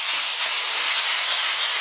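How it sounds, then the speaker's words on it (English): A very fine grit sanding block is drawn over lacquered pallet wood boards, giving a steady, close, continuous abrasive rub with no breaks, alone and without voices. "what I'm going to do is use this really fine grit sanding block"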